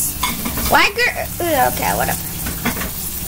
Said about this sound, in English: I'm sorry if you hear some sizzling noises.